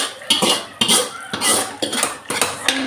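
Tempering is tipped into a pot of cooked dal for sambar, heard as several close metallic clanks and scrapes of a spoon against cookware, in short uneven bursts.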